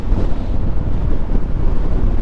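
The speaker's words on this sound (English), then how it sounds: "It's a little windy out here." Strong wind buffets the microphone in a steady low roar at a truck rest area, with no voices.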